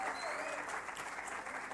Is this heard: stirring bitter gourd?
no